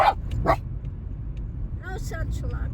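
A dog barks in short bursts at the start and again near the middle, fairly close, with a person talking over the background noise later on.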